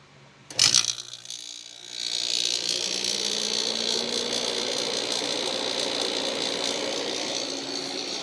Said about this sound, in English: That is a really, really noisy compressor.